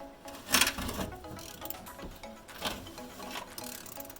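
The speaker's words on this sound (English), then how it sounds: "Think it'll ever come off if I keep ratcheting it?" A ratchet wrench turns a stubborn bolt while a dog house is being taken apart, giving close, uneven bursts of clicking and rasping metal with short pauses between strokes.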